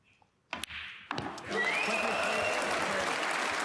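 A snooker crowd at the Northern Ireland Open quarter-final breaks into applause after a few sharp knocks, swelling into sustained, dense clapping that fills the hall.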